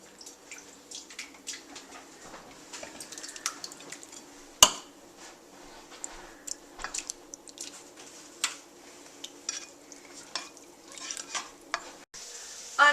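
Canned tomatoes and jalapeños are stirred in a pot, giving soft, uneven scraping and sloshing close by at a low level, with one sharp knock near the middle.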